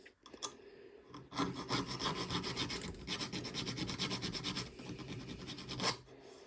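Hand file worked with steady, rapid rasping strokes, close and fairly quiet, after a few scattered scrapes at the start.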